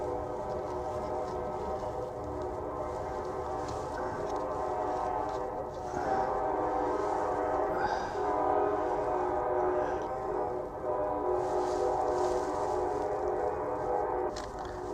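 A passing train near a marina holds a long, steady horn blast with layered tones over a continuous rumble, loud and persistent for the whole stretch.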